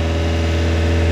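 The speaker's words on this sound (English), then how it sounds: "Starts right up. Idle's a little high." A car engine running on rubbing alcohol idles a little high, giving a steady, close mechanical hum with a fast, even pulsing throb and no voices.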